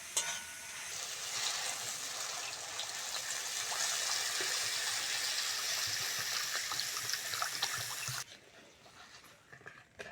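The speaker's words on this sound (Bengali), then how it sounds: "এবার জল দিয়ে দেবো।" Water is poured into a pan of fried spice paste for a tilapia curry, giving a loud rushing, hissing sizzle that runs for several seconds and then drops to a quieter bubbling with light clatter.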